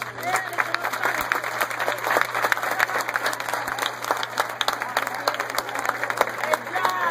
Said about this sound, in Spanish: El pueblo da un aplauso.